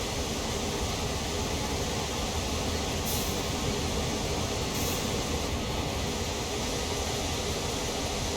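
A Norfolk Southern GP38-2 train on the Horseshoe Curve in Train Sim World rolls backwards along the rails, a steady broadband rumble and hiss holding evenly throughout with a couple of brief high-pitched squeals.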